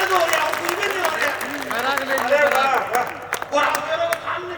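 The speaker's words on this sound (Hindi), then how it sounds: "मेरा दोनों हाथ खड़े करके ताली बजाइए।" An audience at a Hindi kavi sammelan poetry recital claps in a scattered burst of applause while a poet keeps talking loudly over it, the clapping thinning out toward the end.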